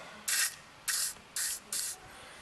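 Four short bursts of WD-40 penetrating lubricant spray hiss in quick succession, each about a quarter second long, close and crisp against a quiet background, sprayed onto a John Deere lawn tractor grass blower.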